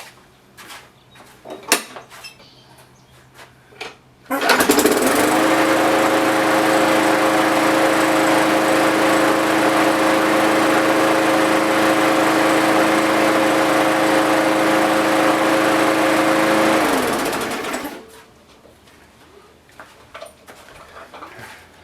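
A classic Briggs and Stratton small engine with a repaired leaking carburetor starts abruptly and runs at a steady, loud, even drone for about thirteen seconds before cutting off cleanly, with quieter handling noises before and after.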